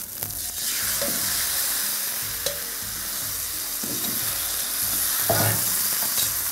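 Raw prawns fry in a pan for prawn pulao, giving a continuous moderate sizzle with occasional scraping stirs and clinks.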